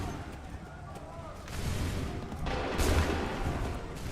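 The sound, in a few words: musket volley firing in Assassin's Creed 3 video game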